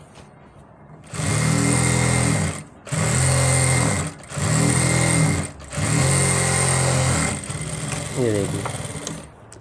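A sewing machine stitches ladies' pants in four sustained, loud bursts separated by short pauses, with a final softer run at the end. Someone speaks briefly near the close.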